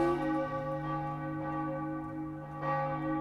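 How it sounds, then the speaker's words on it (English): Church bells in the Morrowind video game toll at seven o'clock, a sustained, resonant ringing with rich overtones, loud and steady with one fresh strike near the end. "7 o'clock. Listen to the bells."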